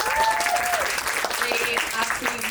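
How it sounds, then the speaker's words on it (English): Audience applause breaks out at a film screening Q&A in London, with voices and brief calls rising over the clapping. "That was absolutely, round of applause, please."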